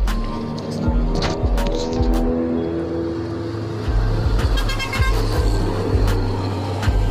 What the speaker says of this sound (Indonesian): Ini tronton barang, yaitu truk barang yang pulang dari arah Medan